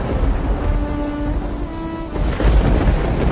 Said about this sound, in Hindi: देखो ना, फिर से बारिश शुरू हो गई।